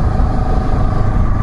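Steady, close motorcycle engine rumble on a city street in the rain, a loud low drone without pauses.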